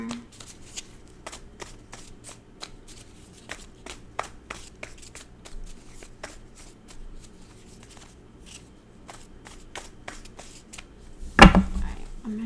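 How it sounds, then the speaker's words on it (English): Crisp, rapid riffling of a deck of tarot cards, repeated in quick bursts, ending with a louder tap as the deck is squared. "I'm going to shuffle this one more time because they're kind of sticking together"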